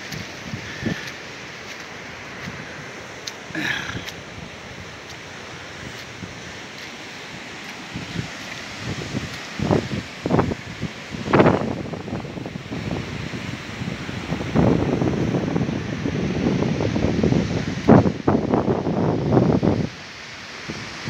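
Wind buffets the microphone at Praia de Jequí beach in Icaraí de Amontada, Ceará, with steady surf roaring beneath and gusty rumbling bursts growing louder toward the end.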